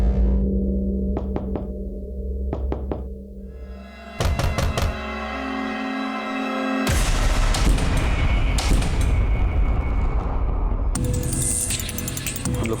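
Police breaking down a locked door: heavy, repeated thuds and knocks in bursts, set against loud dramatic music.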